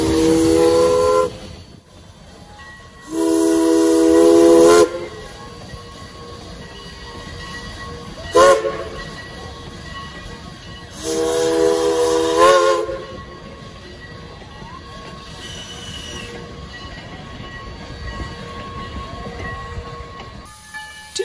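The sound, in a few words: small saddle tank porter steam locomotive running with whistle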